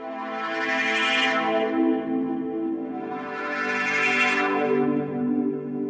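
A Modal Argon8 synthesizer plays a rich sustained tone through a low-pass filter, its brightness swelling open and closed in two slow sweeps with no talk.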